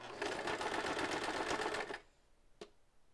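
A home sewing machine stitches in a fast, steady run of rapid needle strokes for about two seconds, then stops, leaving a quiet room with one brief sharp click afterward.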